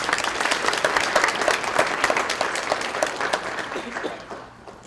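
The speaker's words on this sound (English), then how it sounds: "Would you give yourselves a round of applause?" Sustained applause from a sizable audience at a university faculty institute address, steady dense clapping that holds for several seconds before tapering off near the end.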